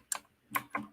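Three separate clicks are spaced unevenly across a second, each a short, crisp tap on a computer keyboard, close and isolated in a quiet room with no talking.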